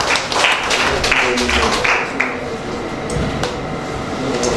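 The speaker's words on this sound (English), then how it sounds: "Please a round of applause for him." Audience applause at a charity foundation event for physically challenged people, a steady wash of clapping filling the room throughout.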